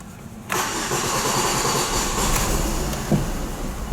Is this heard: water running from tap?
no